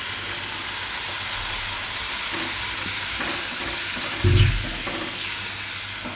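Chili powder and tomato puree being stirred in a frying pan, a steady close sizzle with hissing steam and scraping spoon strokes, including one heavier clunk near the end, no talk.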